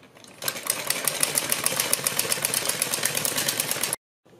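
A sewing machine runs fast and steady while stitching a folded strip on a kurti, its rapid, even needle chatter close and loud. It stops abruptly, leaving silence.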